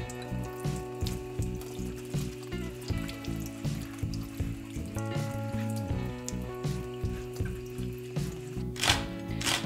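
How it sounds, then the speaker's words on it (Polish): A leek rinsed under a running kitchen tap, a steady soft stream of water with light splashing and patter, heard close and alone. "Taki por wstępnie oczyszczony ma na sobie jeszcze resztki ziemi. Ja w tej chwili go wstępnie opłuczę."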